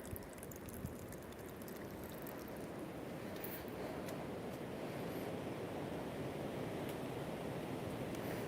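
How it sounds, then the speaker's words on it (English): Wind blowing through a sandstone stream bed during a snowy walk makes a constant, rushing roar across the microphone, broad and unbroken, with no voices. "I'm not so pleased about the wind, mind, it has to be said. It is a bit whistly."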